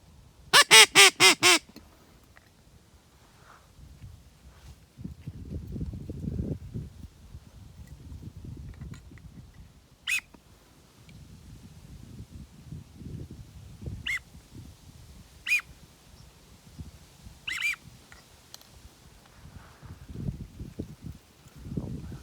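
Teal ducks quack during a morning duck hunt at daylight, a rapid burst of loud calls at the start followed by scattered single quacks at a distance over low outdoor rumble.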